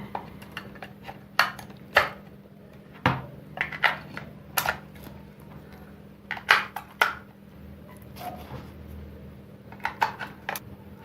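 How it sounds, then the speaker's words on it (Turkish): Plastic clicks, snaps and small rattling taps as the back cover of an Acura AC 9080 K digital blood pressure monitor is opened and four batteries are inserted, irregular close-up handling sounds over a steady low electrical hum. "Öncelikle 4 adet pilimizi şu arka kapağı açıp takıyorum."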